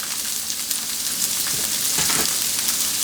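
Spring onions sizzling in a hot frying pan, a loud, steady, close hiss of frying with faint stirring movements and no voices.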